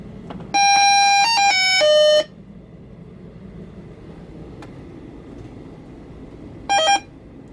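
A 1977 Mattel Las Vegas electronic handheld game beeps out a quick run of bright, electronic tones after start is pressed, followed after a quiet pause by a second short burst of beeps.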